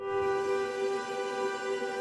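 Arturia Augmented Grand Piano plugin playing its layer A amber piano sound, a sustained, evenly held tone with a soft, steady texture, moderately quiet and alone.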